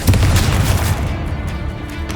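Confringo fire spells are cast in Hogwarts Legacy, giving heavy, booming blasts with a thick low rumble. Quick bursts come one after another and then fade toward the end.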